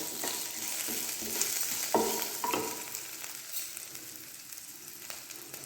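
Chopped ginger and green chilli hit hot oil already frying cinnamon, cloves and fennel for Kudanthai kadappa, giving a soft crackling sizzle with a few spoon scrapes and taps, close and quiet, with no voices.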